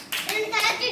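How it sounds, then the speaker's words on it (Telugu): Children in a classroom clap briefly after a classmate names body parts, the claps short and close, mixed with a voice. "క్లాప్స్."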